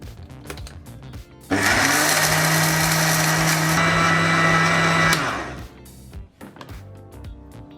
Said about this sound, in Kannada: ಈಗ ಮತ್ತೆ ಇದನ್ನೆಲ್ಲ ನಾವು ಪುಡಿ ಮಾಡ್ಕೊಳ್ತಾ ಇದ್ದೀವಿ.